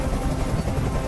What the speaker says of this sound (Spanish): ¡Haz que ese helicóptero se vaya!